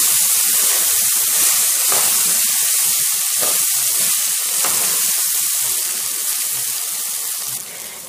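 Rice grains being sautéed with vermicelli in a hot pan, giving a steady, close, loud sizzle and crackle with faint stirring scrapes throughout, no talking.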